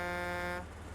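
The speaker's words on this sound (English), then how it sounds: "It does have a good horn, though." A truck horn in SnowRunner sounds as a single loud, steady buzzing blast that cuts off abruptly just before one second.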